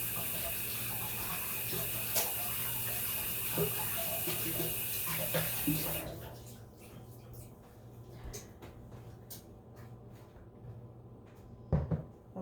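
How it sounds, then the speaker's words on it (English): Water runs steadily from a kitchen tap during handwashing for about six seconds, then shuts off, leaving faint clicks, knocks and a louder clatter near the end. "Let me wash my hands."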